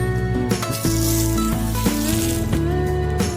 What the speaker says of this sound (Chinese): 然后淋上烧开的热油爆香